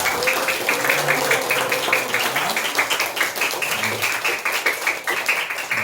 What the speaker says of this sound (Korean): 우리 오신 분들 위해서 우리 큰 박수 하겠습니다